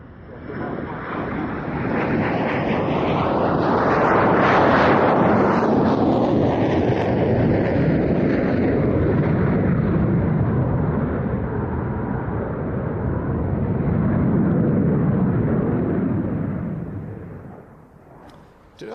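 An English Electric Canberra jet makes a low, slow pass with its wheels and probably flaps down. A loud roar swells, peaks with a falling pitch sweep, dips, then builds again before fading near the end.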